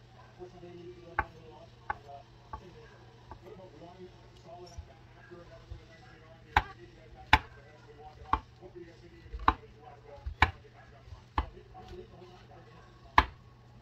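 Mushrooms being sliced with a knife on a cutting board while pizza is prepared, a dozen or so sharp, irregular chopping knocks close by, with a low steady hum and quiet talk underneath.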